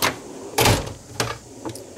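A metal tool box drawer holding 3/8 and 1/2 inch drive non-impact sockets slides open in a garage, with a sharp clack and then a few lighter rattling clicks and thumps as the drawer moves.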